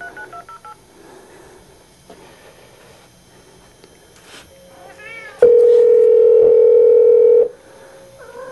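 Telephone dialing sounds: after quiet indoor shuffling and a brief cat meow, a loud steady dial tone holds for about two seconds, then ends with short keypad beeps.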